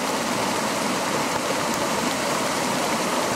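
Floodwater rushes past in a river during a historic flood, making a loud, dense, unbroken roar of water that stays constant throughout with no talking.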